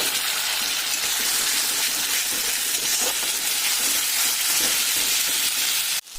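Ginger, cumin, garlic and chilli paste sizzle loudly in fried onions, making a dense, steady hiss close by that cuts off abruptly at the end.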